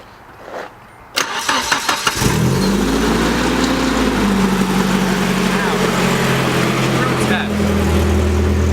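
A Nissan S13 fitted with a 350Z oil cooler cranks with a rapid chugging starter for about a second, then fires and settles into a loud, steady idle with a short rev near the end.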